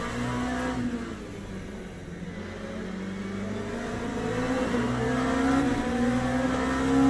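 A hypercar in the racing game Le Mans Ultimate closes in from behind, its steady engine drone swelling gradually louder over several seconds with no talk.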